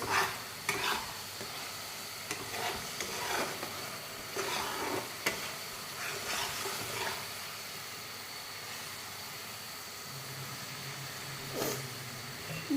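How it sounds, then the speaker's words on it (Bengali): Spices sizzle and crackle as they fry in a pan during fish (pangas) curry cooking, with soft intermittent stirring scrapes over a steady low hiss, fairly quiet and close. "আমার এই যে মশলাটা ভাজা ভাজা প্রায় কমপ্লিট"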